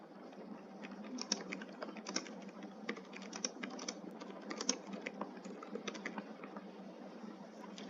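Soft, quick keystrokes on a computer keyboard tap out an email reply, faint and continuous over a low background hum.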